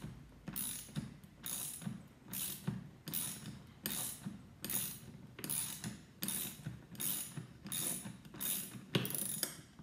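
Loosening a lock nut on a Gratz reformer with a half-inch ratchet wrench makes a close, repeated ratcheting click-whir, about ten even strokes in steady rhythm with brief pauses between them.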